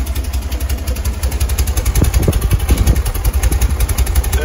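A 1971 VW Baja Bug's 2110cc engine idles steadily with a low, rhythmic chugging, a bit of clatter rising in the middle, heard up close with no talking.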